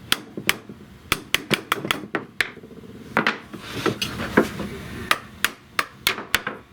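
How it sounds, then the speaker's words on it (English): A mallet striking wooden chair parts during repair, a series of sharp, close knocks in uneven rhythm, about a dozen-plus hits with brief scraping and shuffling between them. "this mallet will dent this wood if I hit it wrongly"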